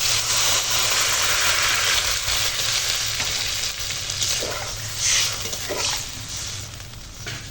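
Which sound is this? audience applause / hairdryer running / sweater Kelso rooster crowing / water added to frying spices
water added to frying spices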